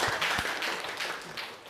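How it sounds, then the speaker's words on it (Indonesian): A school class applauds group 6, a dense wash of many hands clapping together at moderate loudness, steady and then slowly thinning. "berikan tepuk tangan untuk kelompok 6."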